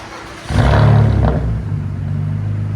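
A 2002 BMW Z3 with a 3.0L inline-six and true dual straight pipes blips its engine in a loud, close rev that swells and then falls back to a rumbling idle.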